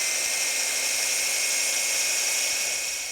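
A power drill bores holes through the metal mounting knobs on Jeep CJ7 bumper bars, a steady high whine running continuously and fading slightly at the end.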